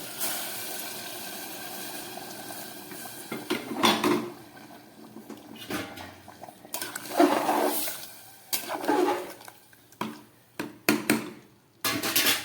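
Warm water poured into a pressure cooker of mutton curry, a rushing, splashing pour close by, broken up by metallic clatter of pot and utensils, with no talking.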